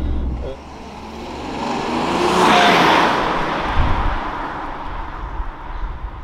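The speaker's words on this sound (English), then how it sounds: "such a fantastic diesel engine up front" A BMW E90 LCI 330d diesel engine with a manual gearbox builds in a rising roar, swelling to a peak and then easing off, with road and wind noise throughout.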